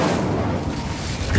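Fiery Incendio spell cast in Hogwarts Legacy on PS5, a loud, sustained rushing blast with low booming rumble throughout, swelling again at the end.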